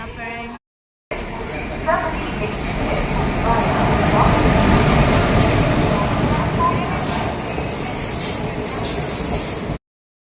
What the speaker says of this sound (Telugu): ఇంకా ట్రైన్ అయితే వచ్చేసిందండి